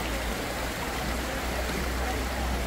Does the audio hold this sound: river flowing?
yes